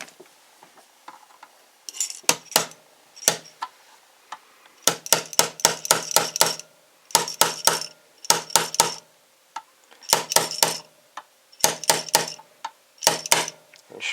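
A hammer drives a roll pin into a Century International Arms M92/M85 booster: clusters of sharp metallic taps in quick bursts, repeated several times with short pauses between, close and fairly loud.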